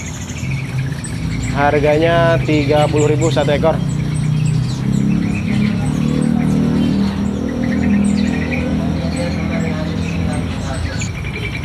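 Many caged terucukan birds at a bird shop in Palmerah, Jakarta, chirp and warble continuously, with a burst of rapid repeated notes early on, while someone talks over the busy birdsong.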